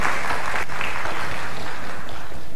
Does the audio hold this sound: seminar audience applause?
yes